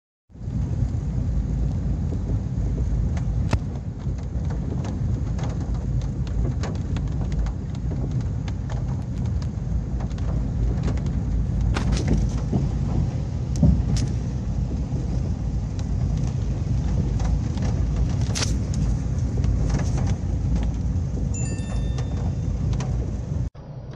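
Heavy rain pours in a dense, unbroken hiss over flooded streets in Petrópolis, Natal, with car traffic rumbling through the water and scattered sharper splashes and knocks, steady and loud throughout.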